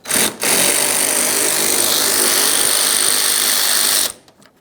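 A power tool runs a long continuous whir while removing a 10mm bolt from the bumper cover corner of a 2011-2021 Jeep Grand Cherokee, close and loud, with a short blip at the start and a rattling wind-down at the end.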